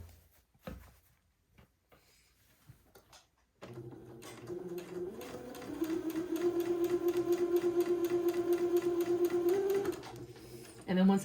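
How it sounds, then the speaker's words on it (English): Sewing machine running the first pass of a French seam on a bishop dress: a few faint clicks and handling noises, then a steady, even stitching hum that builds and holds for several seconds before stopping. "I'm going to sew the first pass of my French seam"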